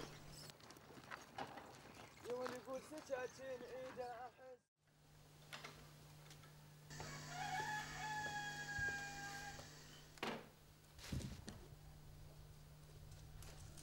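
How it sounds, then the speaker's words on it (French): At dawn near the ancient Mesopotamian city of Mari on the Euphrates in Syria, a distant rooster crows twice in faint, drawn-out calls over a constant low hum and soft background sounds. "À l'appel du coq"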